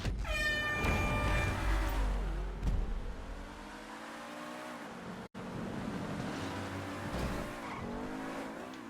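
A car in a racing video game revs and skids, its engine whining up then dropping while tires squeal, a loud, continuous run of motor noise with a brief cut partway.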